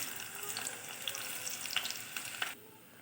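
Small onions fry in coconut oil with a soft sizzle and a few crackles and pops, then the sound drops away near the end. It is fairly quiet.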